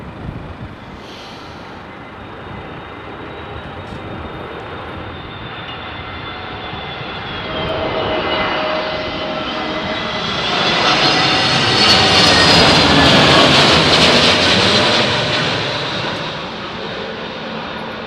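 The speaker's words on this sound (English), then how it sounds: "Stuart Watson can't beat the paddock for the engine sounds." A jet aircraft passes straight overhead beside an airfield paddock, its engine roar swelling from a distant whine to a loud, sweeping peak before slowly receding.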